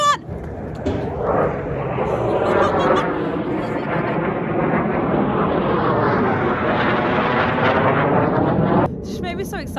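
Airplanes flying overhead outdoors near a farm, a loud broad roar that swells and then fades over about eight seconds.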